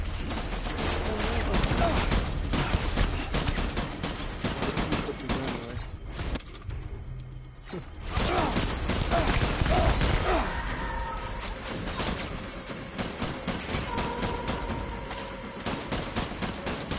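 Gunfire in Death Stranding, with bursts of shots over a dense, loud mix of game effects and music, followed by a brief dip and more clattering fire afterwards.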